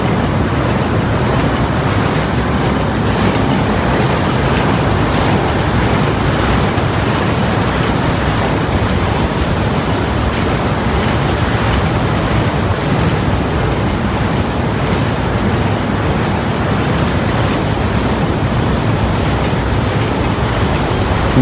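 The Ekota Express train rumbles across the long rail bridge over the Jamuna river, a loud, continuous roar of wheels and carriages heard from on board, with no break for the whole stretch.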